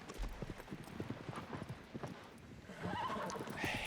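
Agro, the horse in the video game Shadow of the Colossus, gallops in a quick rhythmic clip-clop of hooves with a whinny, close and steady, shifting to a rougher surface toward the end.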